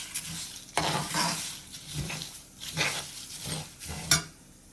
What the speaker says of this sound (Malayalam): പിന്നെ കുരുമുളക്, വാടിയ കുരുമുളക് ഇച്ചിരിയുണ്ട്, അതും കൂടി ഒന്ന് എടുത്തിട്ട് റോസ്റ്റ് ചെയ്യാൻ നിൽക്കുവാണ്.